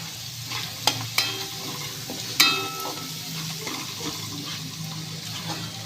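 Chopped coriander roasting in very hot oil in a pan, a continuous close sizzle broken by a few sharp utensil clanks and scrapes, with no talking.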